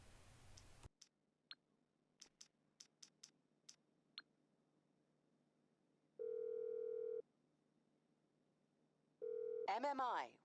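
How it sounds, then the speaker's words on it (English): A phone call placed in GTA V opens with a string of soft dialing clicks, then two steady ringback tone bursts, and a voice starts speaking at the end. "you just have to make a quick phone call with your insurance claim"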